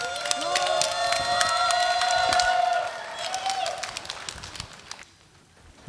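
An audience at a large church charismatic convention in North America claps and cheers loudly for several seconds, then the sound fades away toward quiet.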